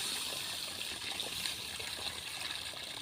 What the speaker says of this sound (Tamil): இப்போ நம்ம அந்த புளி தண்ணியை தான் சேர்த்துக்க போகிறோம்